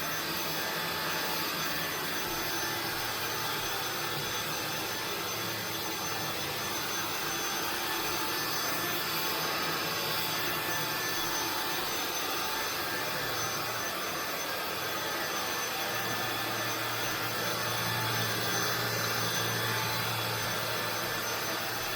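INSE V120 cordless vacuum cleaner running steadily nearby, a constant broadband whoosh of airflow with only subtle shifts in tone throughout, and no voices.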